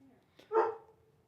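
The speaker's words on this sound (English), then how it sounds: "There's not anything I can do about this barking dog." A single dog bark sounds close by indoors, one short loud burst with a quieter yip just before it, then quiet room tone.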